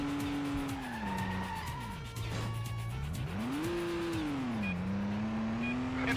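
A car in the Stuntman video game pulls a handbrake turn, its engine note swooping down and back up while tires hiss and squeal in a sustained skid, loud and continuous with no voices.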